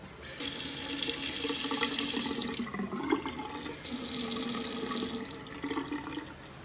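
Water runs steadily from a newly installed bathroom vanity sink faucet, a broad continuous rush that fades briefly midway and then resumes, with no voices.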